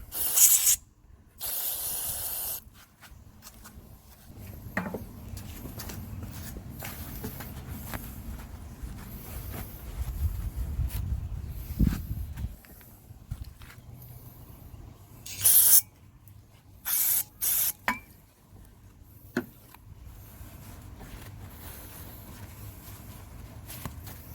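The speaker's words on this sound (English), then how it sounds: "Just gonna use a little carb cleaner." Carb cleaner sprayed in short hissing blasts onto a self-propelled mower's pinion gear caked with old grease, the spray bursts loud and close between quieter handling noise.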